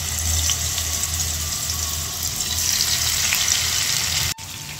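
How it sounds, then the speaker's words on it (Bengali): Hilsa fish fries in hot oil in a pan, giving a loud, dense, continuous sizzle and crackle up close. The sizzle cuts off abruptly near the end and nobody speaks. "এখন আমি প্যানে তেল দিয়ে দিয়েছি। আমি ইলিশ মাছগুলো দিয়ে দেব।"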